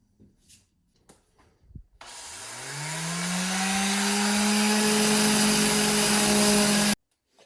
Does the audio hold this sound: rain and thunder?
no